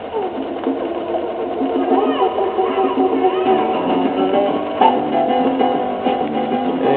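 The mechanism of a 1959 Westinghouse 44AC-1 record changer running, a steady close mechanical whirr and hum with faint rattles and a small clunk partway through.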